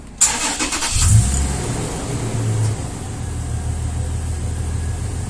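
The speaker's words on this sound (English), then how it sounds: "if I switch the vehicle on and start it" A Toyota FJ Cruiser engine cranks briefly and catches, then settles into a steady low idle rumble that continues close and loud after the start.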